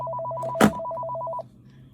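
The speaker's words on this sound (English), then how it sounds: "Oh, good, the phone's ringing." Indoor telephone ringing in a fast, repeated electronic double-tone pattern for about a second and a half, broken by a sharp noise burst midway, then stopping over a low steady hum.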